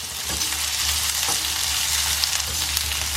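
Finely chopped onions hit hot vegetable oil and fry with a loud, steady, close-up sizzle. A couple of soft scrapes sit under it and no one speaks.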